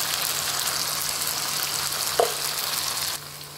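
Chilli powder and turmeric hit hot oil in a pan while egg curry is being cooked, giving a steady, close sizzle with one brief clink, then dropping a little quieter near the end, with no talking.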